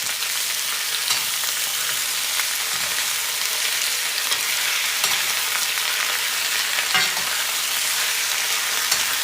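Stir fry sizzles steadily in a thick, heavy American-made cast iron wok, a dense continuous hiss with faint scraping stirs now and then, close and alone without voices.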